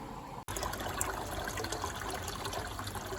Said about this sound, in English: Now it's taken on more water for its second rinse.